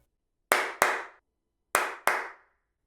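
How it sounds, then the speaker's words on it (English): Four sharp hand claps, each struck three feet from a microphone on an outdoor balcony, landing in two quick pairs with short decaying tails and silence between them. "I clapped 3 feet away from the microphone"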